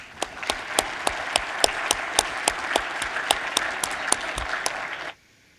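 Audience at a War College ethics lecture breaking into steady applause to welcome a speaker joining by video link, a dense even wash of clapping for about five seconds before it stops abruptly.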